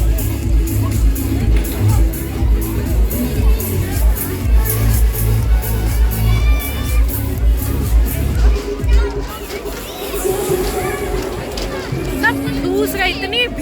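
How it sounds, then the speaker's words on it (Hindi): Dense crowd hubbub near the beer tent at a Landshut festival, a steady babble of many voices with occasional shouts and cheers, close and continuous. "इतनी भीड़ है। दारू के टेंट के पास आते ही भीड़ हो जाती है।"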